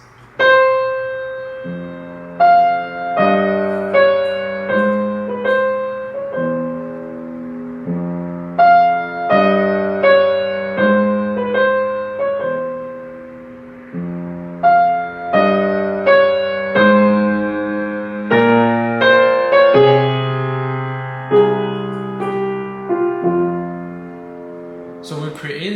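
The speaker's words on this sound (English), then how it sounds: "So when we play the counter melody and the dominant melody, it sounds like this." A solo piano plays a Chopin nocturne passage in which a counter melody and a dominant melody sound together: clear ringing notes and chords that decay, repeating steadily for about half a minute with no talking.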